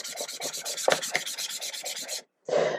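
Slightly dirty, previously used sandpaper rubbed over paper laid on a stencil, a fast rhythmic scratching of about a dozen quick strokes, near and loud, then a brief pause before another burst of rubbing.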